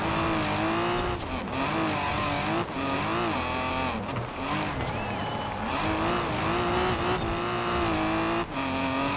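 Lancia and Audi rally cars race on an icy, snowy track in Forza Horizon 4, their engines revving hard and close, pitch rising and dropping through gear changes, with tire squeal over a dense, continuous roar.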